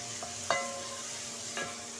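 Ginger and garlic fry in a pan until browning, a quiet sizzle broken by a couple of soft stirring scrapes.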